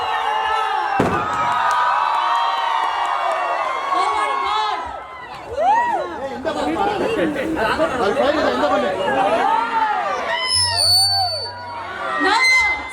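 Fans cheer and applaud for actress Sangeetha at the unveiling of her 40-foot cutout, a loud, dense crowd roar of chatter, whoops and whistles that swells and surges throughout, with voices mixed into the din.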